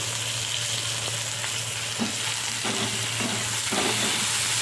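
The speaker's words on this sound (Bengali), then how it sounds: "এরপর আমি মধ্যে দিয়ে দিচ্ছি কেটে রাখা কাঁচা লঙ্কা আর টমেটোটা।" Green chillies and tomato frying in a pan, with a steady close sizzle and a few soft scrapes of stirring, no voices.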